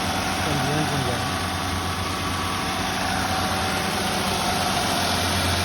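A 2012 Honda Odyssey engine idles with an unidentified extra noise, a steady even hum heard close up at moderate level, with faint voice-like sounds mixed in.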